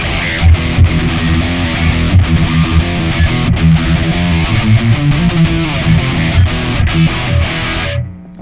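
A distorted electric guitar plays a chugging riff through a Kemper amp, loud and dense with palm-muted rhythm and accented chords, running without pause before stopping abruptly near the end.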